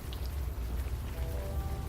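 Steady, soft rain pattering from a rain sound effect in the game Unavowed, a continuous low hiss of drops with a faint tonal hum in the background and no voices.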